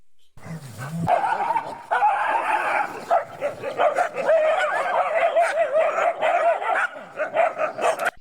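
Dogs bark, yip and whimper in a close, busy scuffle, sounds overlapping almost continuously after a brief low growl at the start.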